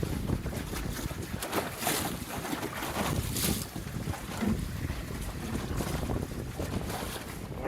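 A sailboat moving at a few knots through big gusts on a lake, with a steady roar of wind buffeting the microphone and faint water rush beneath, no voices.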